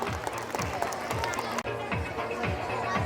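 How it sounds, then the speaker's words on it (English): A crowd at a school Christmas celebration at Mount Carmel School, Baghmugalia, claps loudly for a Santa gift winner. Dense applause and crowd noise run throughout, with voices mixed in. "Give a huge round of applause."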